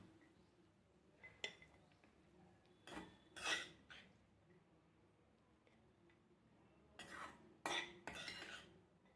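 Cooked wild vegetable bhaji with plenty of onion and chili is scooped out of a pan, heard as a few sharp metallic clinks and scrapes of a spoon against the cookware, spaced apart with quiet gaps between them.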